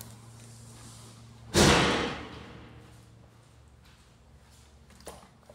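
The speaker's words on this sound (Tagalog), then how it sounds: "Binalibag ng pinto." A door slams once, hard and close, then the room settles into a faint hum and the bang tails off over a couple of seconds, with a small knock near the end.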